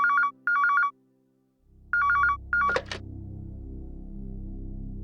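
A telephone rings in short warbling double bursts, two rings then silence, then two more, cut off as a low background hum begins.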